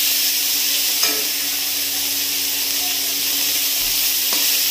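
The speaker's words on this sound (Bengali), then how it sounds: "এবার দিয়ে দেব টমেটো কুচি, দিয়ে দিলাম, দিয়ে আমি একটু ভালো করে নেড়ে চেড়ে নেব" Chopped tomato and onion sizzle steadily in a little oil while being stirred, with a constant frying hiss and a few soft scraping clicks of the spoon against the pan.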